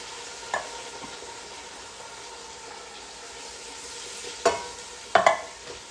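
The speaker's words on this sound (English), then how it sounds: "Give it a little stir" Tomato sauce being stirred in a pan over lowered heat, a faint steady sizzle with a few brief scraping clinks of the spoon near the end.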